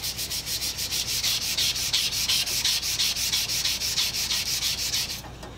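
A sanding block scrubs rust off a steel handsaw blade in quick, even back-and-forth strokes, a close, rhythmic rasping that continues steadily and then fades out at the end.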